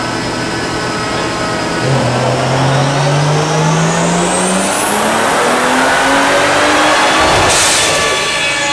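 A BMW N55 with a big turbo revs on a dyno, running at 21 PSI and making about 520 wheel horsepower, its loud engine note climbing steadily in pitch through a single long pull with a rising whine, no talk over it.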